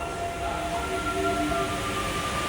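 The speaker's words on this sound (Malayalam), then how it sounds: "ഇവിടുത്തെ മെട്രോ കണ്ടോ, ടയറുള്ളതാണ്. ടയറുള്ള മെട്രോ ആണ്." A rubber-tyred Paris metro train runs with a steady broadband rumble and faint tonal whines from its motors, close and continuous, without talk.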